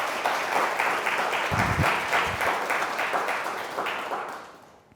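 An audience applauds to welcome a speaker at a lecture on asteroid sample return missions, a dense, steady clapping from many hands that fades out at the end.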